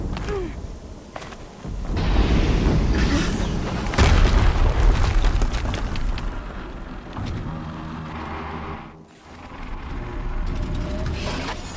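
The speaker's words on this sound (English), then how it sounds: "Explosion." Loud, sustained booming explosion from the video game Horizon Zero Dawn, rolling with heavy rumble and a second burst midway, continuous across the whole stretch.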